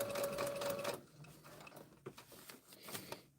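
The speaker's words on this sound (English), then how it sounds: "if you let the machine, it'll just keep sewing what it wants to sew" Sewing machine stitching fabric lettering, a steady close whirring run that stops after about a second, followed by quieter handling clicks and rustles.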